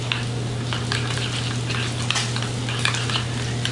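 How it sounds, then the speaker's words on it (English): Fish taco filling sizzles in a hot pan as it is stirred, with a steady frying hiss, a low hum underneath and repeated light scraping strokes of a utensil, close and clear without any talking. "I'm just going to give this a little bit of stir"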